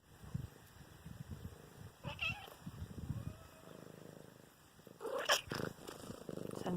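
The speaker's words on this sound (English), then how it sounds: "Listen here, cat." A ranch cat meows close by in a few short calls at around two and five seconds, with soft purring and rustling between them and no talk.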